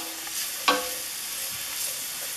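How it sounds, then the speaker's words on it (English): Carrots and broccoli stir-fry in hot canola oil in a pan, with a steady close sizzle and a single sharp clatter as the vegetables are stirred. "So while my vegetables are stir frying"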